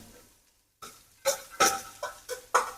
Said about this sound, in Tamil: நல்லா வெங்காயத்தை போட்டு மிதமான சூடில் கிண்டிக்கோங்க